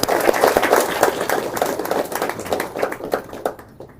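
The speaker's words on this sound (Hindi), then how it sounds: "पहले सब माता एक बार ताली बजाओगे" An audience of women at a Brahma Kumaris exhibition in Kasumbhi, Bhiwani, claps together in a loose, irregular burst that thins out over a few seconds.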